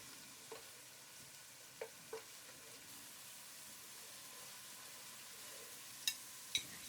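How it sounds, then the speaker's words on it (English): Onion paste and ginger garlic paste fry in oil in a pot, giving a faint steady sizzle with a few soft clinks from stirring. "Then add the ginger garlic paste and fry for another minute."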